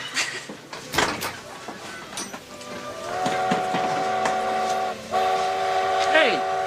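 A train rolls past with clattering rail noise, then sounds a long multi-tone whistle that holds steady for several seconds and bends away at the end, with a voice briefly heard over the rumble.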